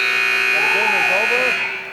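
A loud, sustained electronic buzzer sounds at the end of a hockey match in the 2008 Knock n Roll tournament, holding steady for about two seconds before fading, with voices underneath.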